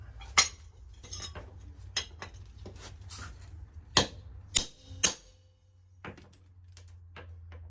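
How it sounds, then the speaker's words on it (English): Several sharp metallic strikes of a hammer on a socket, knocking wheel studs out of a Nissan X-Trail hub, ring out at irregular intervals, a few louder blows standing out, with quieter clinks and handling noise between them. "I'm going to take a large socket, put it on the back side to support it, then strike it with a hammer"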